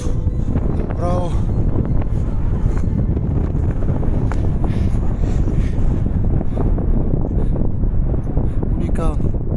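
Strong wind buffets the microphone on the summit of Sinanitsa peak in the Pirin mountains, a constant loud rush with a voice speaking briefly beneath it.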